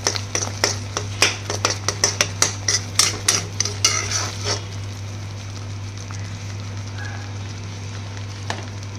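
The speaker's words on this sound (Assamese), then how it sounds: "অকণ ভালকৈ লৰাই থাকিব, গোটেইখিনি যাতে মিক্স হৈ যায়গৈ।" Fish curry with raw mango being stirred in a pan over a low flame, giving a run of about a dozen close, rhythmic scraping and clinking strokes for the first few seconds, then a quieter steady sizzle over a constant low hum.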